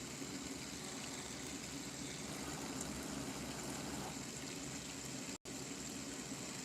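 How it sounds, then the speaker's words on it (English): A relaxing pool water ambience plays as a soft, steady wash of flowing water. It continues unbroken apart from a momentary dropout near the end. "And it has the water sound"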